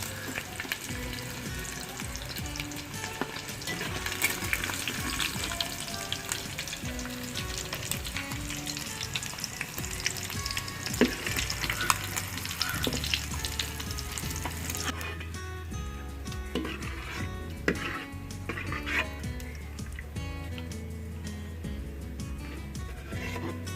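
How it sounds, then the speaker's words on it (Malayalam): Mint leaves and raisins fry in hot oil in a wide pot for Arabian chicken kabsa, a loud, dense, crackling sizzle that runs unbroken throughout, with a few faint utensil taps and no speech. "മിൻറ്റും അതുപോലെ തന്നെ ഉണക്കമുന്തിരിങ്ങ കിഷ്മിഷ് ഇത്രയും സാധനം ഞാൻ വറുത്തെടുക്കുകയാണ്"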